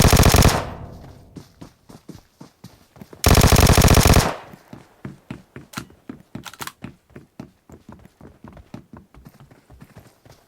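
Gunfire in the mobile shooter Metro Royale: two loud sustained machine-gun bursts, followed by a long run of evenly spaced single shots that fade slightly, with no talking.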